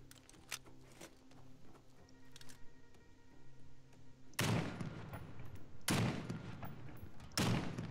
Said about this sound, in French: C'est des vraies balles de sniper là?